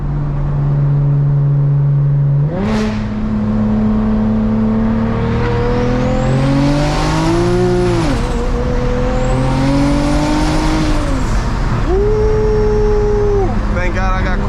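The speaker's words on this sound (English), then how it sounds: "I'm gonna try to do like a little 40 roll so y'all can see how this car acts from second gear" A 600hp single-turbo BMW 335i pulls hard from second gear, its engine note climbing loudly through the revs, dipping at shifts and rising again with turbo whine over it, close up and dominant throughout.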